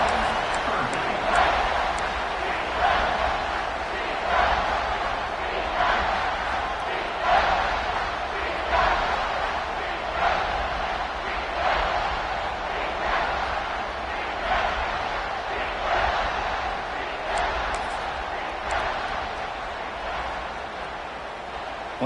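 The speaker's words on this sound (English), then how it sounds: "the crowd really getting into it" Stadium crowd in NCAA 26 college football cheers and roars in rhythmic surges, a steady wash of noise from many people that rises and falls throughout.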